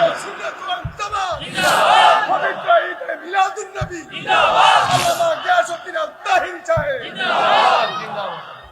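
At an Islamic sermon, a large crowd chants takbir back to the preacher in three loud surging bursts, each call-and-response wave rising and fading in a hall.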